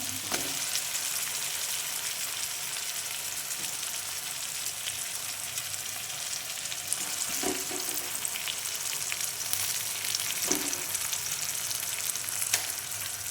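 Pabda fish fries in spiced, turmeric-tinged oil in a pan, giving off a constant close sizzle and crackle, with a few soft knocks and stirs along the way.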